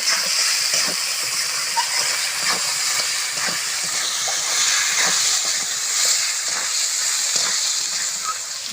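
Moong dal being sautéed with spices in a pan, a steady frying hiss running throughout with faint scraping stirs, close and fairly loud, no talk.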